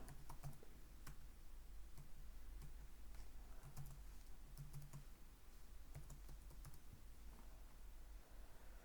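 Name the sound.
typing an ID and password on a computer keyboard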